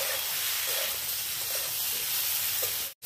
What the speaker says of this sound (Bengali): দিয়ে এবার এটাকে একটু ভাজা ভাজা করব